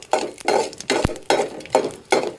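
Mustard seeds, cumin and cut Byadgi chilies tempering in about two spoons of coconut oil, heard as a steady run of evenly spaced scraping or stirring strokes with a small clink midway, close and alone without talk.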